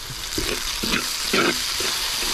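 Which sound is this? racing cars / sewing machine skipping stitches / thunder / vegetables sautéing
vegetables sautéing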